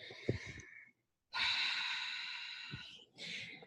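A long, breathy exhale during a yoga forward fold, a steady airy rush lasting about two seconds, close and soft, between brief quieter breaths.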